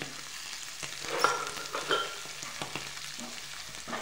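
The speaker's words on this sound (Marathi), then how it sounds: "मस्त व्यवस्थित भाजून घ्यायचं 2 मिनिटं. याच्यामध्ये चटणी आणि हळद टाकून घेतली मी." Potato and fenugreek bhaji with chutney and turmeric frying in a pan, soft sizzling with a few close stirring scrapes and light clicks of a spoon.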